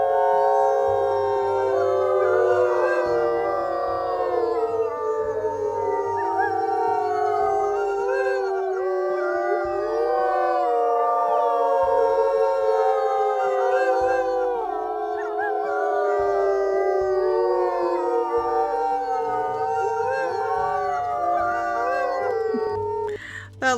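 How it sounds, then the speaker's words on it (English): Azula, a wolf in a video game, howls in a loud, continuous chorus of overlapping, wavering howls that rise and fall together for the whole stretch, with no talking. "That little howl that you guys hear that sounds almost like cartoonish, or like you've heard it before, that like that one's Azula's howl"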